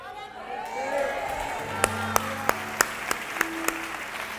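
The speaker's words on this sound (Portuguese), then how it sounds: "Então você vai aplaudir Jesus" A church congregation claps and cheers during a Portuguese-language sermon, a crowd roar swelling then giving way to sharp, evenly spaced loud claps near the listener while voices call out over it.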